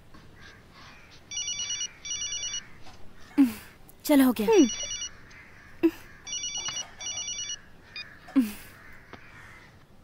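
A telephone rings in repeated electronic double bursts, moderately loud, with a few brief voices and clatters in between.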